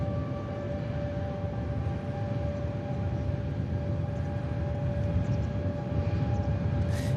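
A Jet2 airliner's engine runs near the run-up bay at Manchester Airport, producing a steady, continuous roar with a faint whine. The sound holds at an even level throughout, heard from a distance with no voices.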